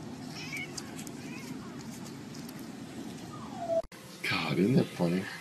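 A cat meows with a drawn-out, sliding cry near the middle, followed by a burst of strained, wavering yowls, over a steady low rumble of background noise.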